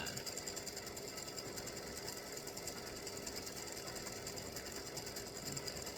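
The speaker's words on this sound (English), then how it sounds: "we're stitching the state of Virginia" An embroidery sewing machine stitches a state of Virginia design in blue thread, a steady, rapid mechanical chatter running evenly and close throughout, with no voices.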